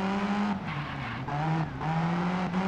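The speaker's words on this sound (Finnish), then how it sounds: "Tuo pakoputken ääni helpottaa." Rally car exhaust from the Sebastien Loeb Rally Evo video game, a steady droning engine note with rising and falling revs and brief lifts between gear changes, loud and close with no talking.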